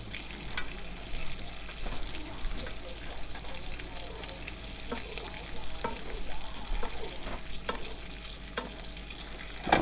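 Steak sizzling in a hot pan with garlic and rosemary while being basted, a steady spitting crackle with soft scraping and spoon clinks recurring at irregular intervals, close and moderately loud.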